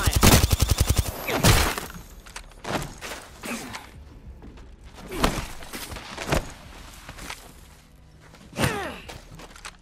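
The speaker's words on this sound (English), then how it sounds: "Opening fire." Gunfire from the Apex Legends battle royale game, a rapid burst of loud close shots at the start followed by scattered single shots and impacts with game noise in between.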